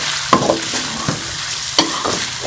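Onions frying with chicken in a karahi, a soft steady sizzle broken by several sharp scrapes and clanks of a spoon stirring against the metal pan.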